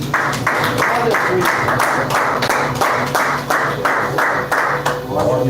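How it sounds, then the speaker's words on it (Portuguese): A church congregation claps in a steady, rhythmic beat, roughly two claps per second, loud and close, with voices underneath during a Portuguese-language worship service. "Palmas para Jesus, irmãos."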